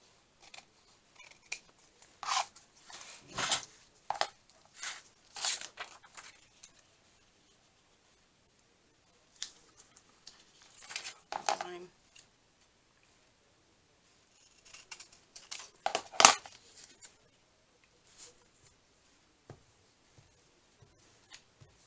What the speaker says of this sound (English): Fabric scissors.